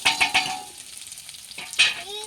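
Onions cook in a pan, giving a brief close sizzle with a few quick scraping stirs, and a voice briefly surfaces near the end.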